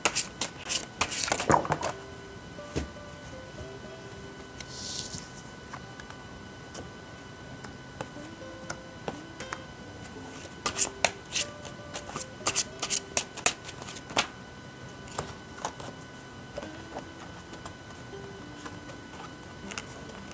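Tarot cards are shuffled close by, with a loud riffle at the start, then long stretches of soft patter and crisp card slaps, sparse at first and thicker later.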